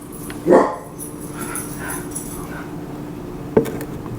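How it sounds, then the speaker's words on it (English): Indoors during a storm, a dog gives a short bark, then falls quiet, then gives a second brief bark a few seconds later, moderately loud and nearby. "I know you guys can hear my dog in the background."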